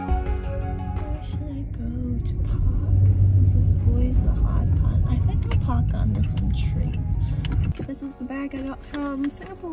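A car being driven around Auckland, New Zealand gives a low, steady engine and road rumble inside the cabin, with small ticks and rattles over it and a brief shift in tone near the end.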